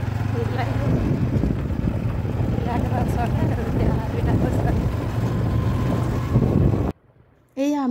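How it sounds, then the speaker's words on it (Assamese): Steady wind rushes over the microphone of a moving motorbike on a village road, loud and continuous, ending in a short near-silent gap and a brief spoken voice. "এইয়া আমি এতিয়া বাইকত গৈ আছোঁ।"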